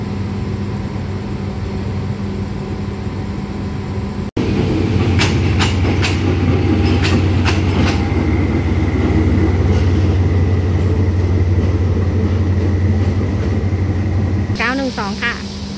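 A historic steam locomotive on a Thai railway pulls its train into a station platform with a heavy, continuous rumble and clattering wheels, and someone talks at the end.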